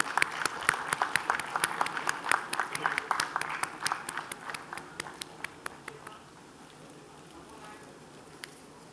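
A conference crowd claps through an award presentation, with sharp, rhythmic hand claps close by over a wash of wider applause that fades after about six seconds, leaving a few stray claps and a faint voice.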